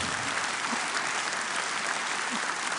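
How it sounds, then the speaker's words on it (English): Steady, fairly faint applause from a conference audience at the opening of the Ukraine Recovery Conference in Poland, continuous clapping with no talk over it. "Applause."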